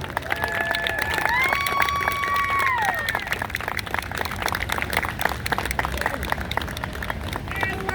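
Crowd applause at a Trans Pride celebration, a steady patter of many hands clapping with scattered cheers and chatter, while a couple of brief tonal sounds rise over it.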